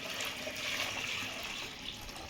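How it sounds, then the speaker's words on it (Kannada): Lukewarm water is poured steadily over freshly picked baby mangoes for a salted pickle, making a continuous close splash and gurgle with no break. "ಈಗ ಇದಕ್ಕೆ ಉಗುರು ಬೆಚ್ಚ ನೀರು ಹಾಕ್ತಾರೆ"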